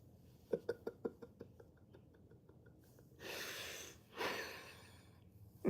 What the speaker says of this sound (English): Apologies for all the clicking noises.